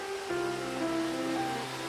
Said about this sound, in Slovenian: Visok slap Brinta.